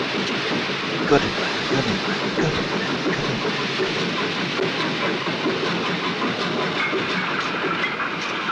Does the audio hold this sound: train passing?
yes